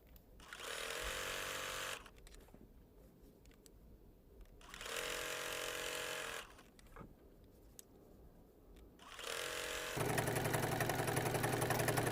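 A sewing machine sews down quilt binding in three separate bursts with quiet pauses between them, the last burst running faster and louder.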